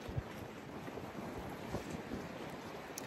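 Strong wind buffets the microphone at a beach in British Columbia, a steady broadband roar with low thumping gusts and a faint wash of water beneath, continuous for the whole stretch with no voices.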